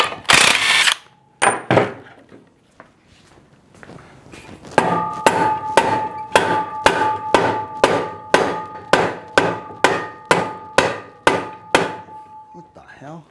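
A ratchet works loose the bolts on a Corvette torque tube, a long run of sharp, evenly spaced metallic clicks close up, following some earlier clanks and knocks.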